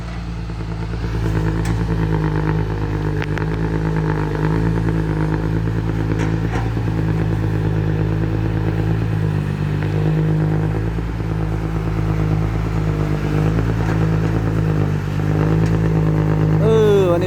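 A diesel excavator engine runs steadily and close by as it loads a truck bed, with a continuous drone and occasional clanks throughout.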